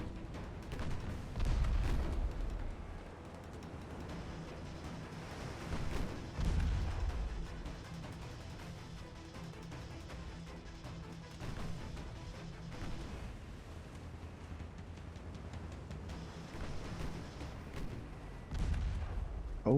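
Naval guns fire and shells strike in Ultimate Admiral Dreadnoughts, a warship battle game. Deep booms and thuds come at irregular intervals over a steady low rumble, with heavier blasts near the start, in the middle and at the end.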